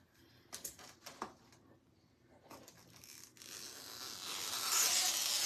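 A paper craft cutout for a patriotic sunflower being cut apart, a few sharp close snipping and tearing bursts followed by a longer rising rustle and scrape of paper.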